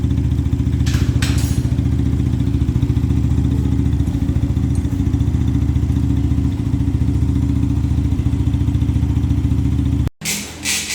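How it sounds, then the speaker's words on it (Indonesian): A motorcycle with an oil leak idles during warm-up, its engine running loud and close in a steady, rapid mechanical chug that cuts off abruptly near the end, with a brief rustle afterward. "Pemanasannya dengan mesin dinyalakan ya."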